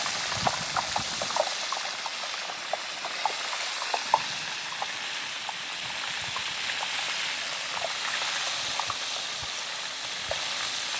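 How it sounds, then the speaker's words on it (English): Steady, dense sizzle of Pismo clams frying in hot oil, with scattered crackles and pops throughout; no voices. "Key to frying these clams is to go really fast, really hot"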